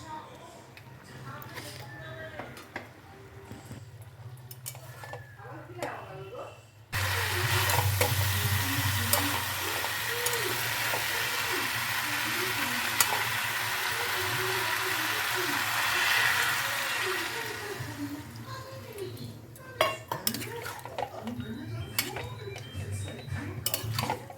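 Bengali drumstick curry with chilli paste being stirred in a pan, with a steady broadband sizzle and scraping of the utensil against the pan for most of the clip, while a person talks over it.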